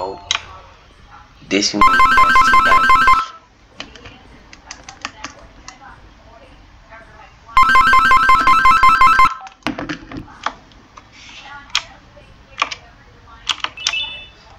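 A phone ringtone sounds in two loud bursts of a few seconds each, separated by a pause, while a person talks and taps nearby.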